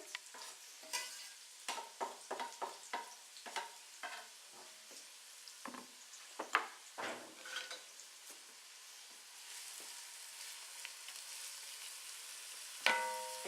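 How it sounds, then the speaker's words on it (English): Chopped onion cooks in a pot for braised green beans, giving a soft sizzle punctuated by a series of close spoon-stirring scrapes, then settling into a quieter steady frying hiss with one louder clatter near the end. "we're going to add the onion to this. And we're going to let that brown, not brown, but just cook so it becomes translucent"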